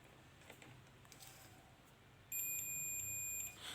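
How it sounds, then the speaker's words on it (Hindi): A multimeter on continuity mode beeps while a fuse is tested, giving one steady electronic tone that starts partway through and holds for over a second, loud over a faint hiss of room noise, with no talking. "देखेंगे तो ये बीप मार रहा है, इसका मतलब ये है ये फ्यूज सही है"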